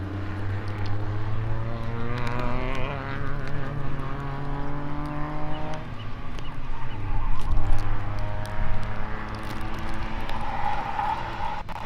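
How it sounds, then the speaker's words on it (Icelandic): Drone hovering over a car racing track, a steady buzzing propeller whine with layered harmonic tones that rise and fall slightly over the whole span, no talk. "Drónin er hér gullfallegur hangandi í loftinu."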